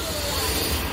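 A Central Railway local train passing near Sandhurst Road bridge in Mumbai, giving a dense, loud, steady roar of wheels and rushing air close by, with faint voices in the background.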